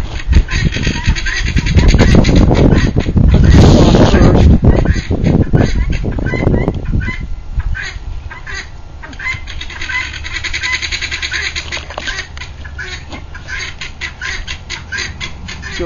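Loud, harsh squawking calls of guinea fowl crowd the first seven seconds, then thin out to scattered fainter calls against an outdoor background.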